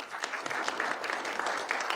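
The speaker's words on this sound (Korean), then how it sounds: "큰 박수 부탁드립니다" Sustained applause from an audience at the close of a forum lecture, with dense, even clapping throughout.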